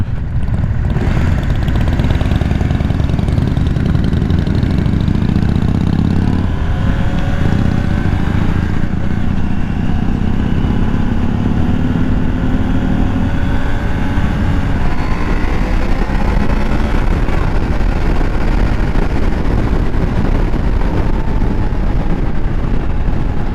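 A KTM motorcycle rides and accelerates on a street, its engine loud and close, the pitch climbing through rising sweeps as it pulls through gears amid steady wind noise.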